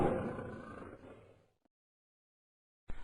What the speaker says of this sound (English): he heard a low roar